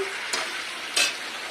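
Fish curry masala with salted fish, jackfruit seeds and elephant-foot yam sizzles in a pan. Two quick scraping stir strokes cut through the soft, close frying hiss.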